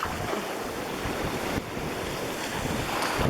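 Water sloshes and laps steadily against a seawall where it juts out on a beach at Edisto Island, mixed with gusty wind buffeting the microphone.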